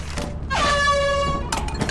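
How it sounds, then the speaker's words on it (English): A single loud, sustained air horn blast in Lethal Company sounds for about a second, flanked by short clunks and game noise before and after. "Oh, you got the air horn"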